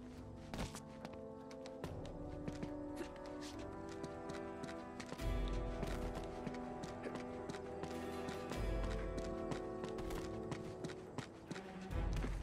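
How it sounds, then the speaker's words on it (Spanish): Horse hooves clip-clop at a gallop with an occasional neigh in the video game Uncharted 2, dense and steady over layered game sound effects, no talk. "Ahora solo hace falta un caballo."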